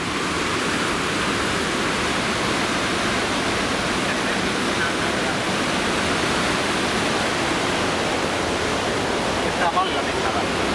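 A large river rushes under a big bridge in Switzerland, a loud, dense and continuous roar of flowing water with no pauses.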